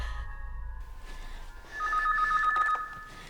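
A telephone rings at night, two bright electronic warbling rings in quick succession standing out clearly over a quiet, low background hum.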